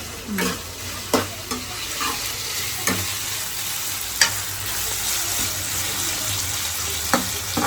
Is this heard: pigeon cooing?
no